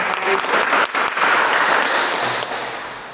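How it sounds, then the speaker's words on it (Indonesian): Audience applause for a guest on an Indonesian school talk show with the student council head, steady dense clapping lasting about three seconds, loud and close, fading slightly toward the end. "kita tepuk tangan dulu"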